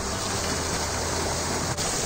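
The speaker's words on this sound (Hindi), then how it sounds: "ये देखो भैया पानी भर रहा है जल्दी जल्दी पीने के लिए।" Water gushing steadily into a container at a village home, filling fast and overflowing, a loud continuous rushing splash with no voices over it.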